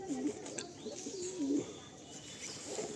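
Garia pigeons in a loft coo in low repeated phrases, a few soft calls rising and falling over a steady background hum, fairly close with faint chirps.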